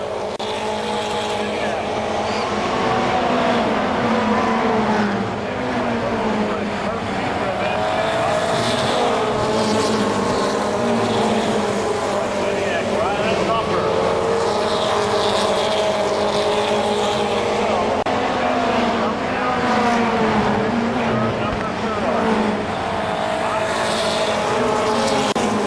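Stock cars race at KilKare Speedway, their engines roaring and droning continuously at mid-distance as they circle the track. An announcer talks over the racing for much of the time.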